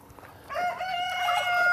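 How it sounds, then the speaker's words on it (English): Laying hens on a small family farm, with a rooster crowing loudly and close in one sustained call that rises out of quieter barnyard background noise. "now we have over 300 laying hens"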